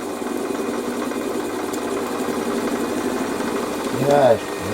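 An aluminium slug being faced off on a metal lathe in a home workshop, giving a steady mechanical hum and whir throughout, with a brief louder rise near the end as a voice speaks.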